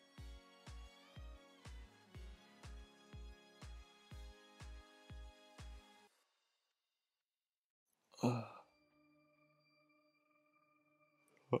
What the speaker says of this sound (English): I'm yawning because I'm tired.